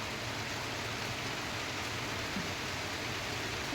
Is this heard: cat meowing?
no